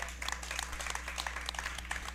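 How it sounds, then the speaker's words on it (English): A brief round of applause from an audience at a Phillies baseball talk session, faint scattered clapping over a steady low hum, with no voices. "Getting a cheap round of applause."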